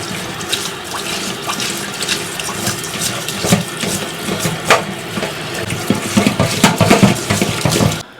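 A live lobster is rinsed under a running kitchen tap, giving a steady close splashing gush of water with small clatters and scrapes throughout.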